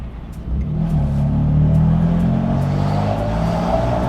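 Straight-piped 700 hp BMW M4 in M1 mode revving hard, a loud, close, continuous engine roar with steady low rumble building through the clip, no talking.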